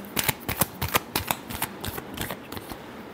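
Tarot cards being shuffled in a series of quick, crisp riffling bursts, about a dozen sharp flutters in rapid rhythm, close and alone without any voice.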